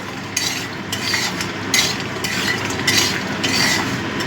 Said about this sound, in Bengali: বড়িগুলো একটু লাল লাল করে ভেজে নেব